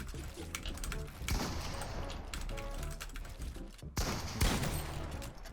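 Rapid bursts of assault rifle fire in an online shooter match, sharp cracking shots in quick strings with short pauses between volleys, loud and close with constant game background noise.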